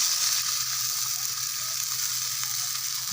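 Chicken sizzles steadily in a clay pot as water is poured in, a dense, continuous hiss that stays fairly loud and even from start to finish, with no voices.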